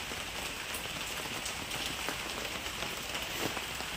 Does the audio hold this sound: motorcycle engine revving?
no